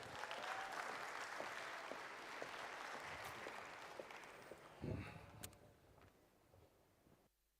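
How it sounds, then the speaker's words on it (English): Faint applause from a conference audience, a dense patter of clapping that slowly thins and fades out over several seconds. "Give her a round of applause, please."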